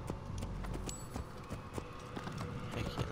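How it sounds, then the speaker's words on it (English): Horse hooves clip-clop at a fast gallop in the Assassin's Creed Origins video game, a steady rapid rhythm over game music and ambience. "let's take the horse a lot faster"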